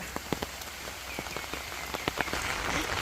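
Rain falling on a rural vegetable garden, a steady hiss with scattered nearby drips and patters; no one speaks.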